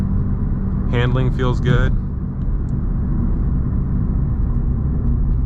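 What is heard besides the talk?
BMW car engine accelerating while driving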